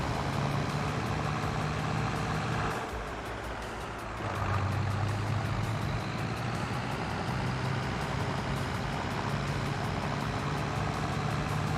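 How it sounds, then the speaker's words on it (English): A tractor engine idles steadily in Farming Simulator 22, a continuous low droning rumble that dips briefly and then resumes at the same level. "That tractor has an engine?"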